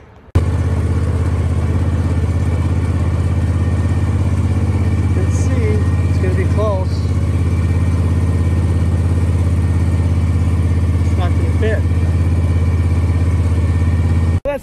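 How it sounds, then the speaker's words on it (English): A John Deere S240 riding lawn mower engine runs at a steady idle close by, a low, even rumble throughout, with a person talking over it at times. "it looks like the John Deere is going to work, so we're going to go ahead and use the S240 out back."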